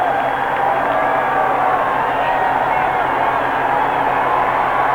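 Football stadium crowd at a Raiders–Chargers game in San Diego, roaring as the Chargers quarterback Fouts comes to the line of scrimmage; a steady, dense wash of crowd noise holds loud and unbroken throughout.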